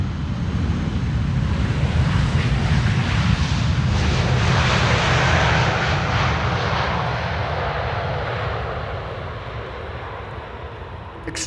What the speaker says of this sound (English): an A330 using its reversers